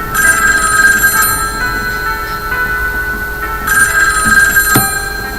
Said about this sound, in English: why is nobody answering the phone?